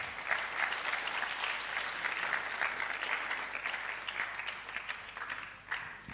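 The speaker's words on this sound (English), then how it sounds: "Please, let's give him a big round of applause." An audience at a medical college public lecture in Ghana gives steady, sustained applause, a dense wash of many hands clapping from a moderate distance that continues evenly throughout.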